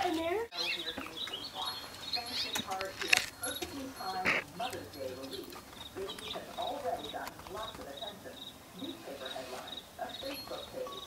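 Baby birds in a nest chirp in a fast, regular train of high peeps that runs throughout, while a nearby person talks softly and a voice imitates the chirping.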